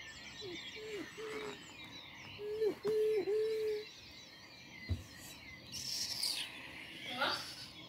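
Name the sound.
small brown bird singing a joyful song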